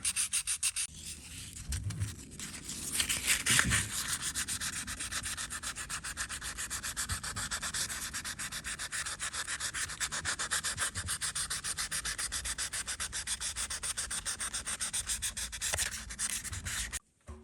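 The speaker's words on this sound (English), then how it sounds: "I usually like to sand by hand" Close, steady back-and-forth rasping of sandpaper rubbing a 3D-printed part by hand, rhythmic and continuous for a long stretch, with a few knocks early on.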